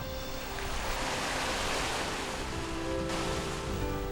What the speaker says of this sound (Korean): 몽돌과 파도가 부딪혀내는 아름다운 하모니